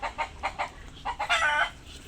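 Chickens clucking in a quick series of short, bright calls, fairly close, followed by a longer drawn-out squawk, with no talking.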